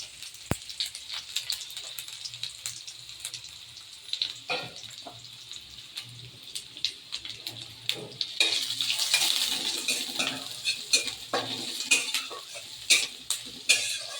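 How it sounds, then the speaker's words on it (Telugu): Onions, garlic, and red and green chillies stir-fry in a pan with a soft sizzle. Frequent scrapes and clinks of a spoon against the pan run throughout, and the frying grows louder partway through. "ఇవి ఆనియన్స్ బాగా రోస్ట్ అవ్వాలి, అప్పుడే టేస్ట్ బాగుంటుంది"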